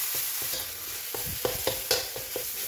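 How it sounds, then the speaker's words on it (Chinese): A steamed spice paste for beef rendang is stir-fried in about two tablespoons of oil over low heat, with a soft continuous sizzle and a spatula scraping the pan in irregular strokes, close up and without speech. "放点点油，差不多2汤匙这样，不要太多。 就用小火慢慢的炒"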